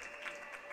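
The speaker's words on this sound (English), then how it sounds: "drawing another big ovation from the crowd" Crowd applause follows a short track speed skating final at the Buffalo Short Track Championships, a faint, steady wash of clapping from a distance with a low hum running underneath.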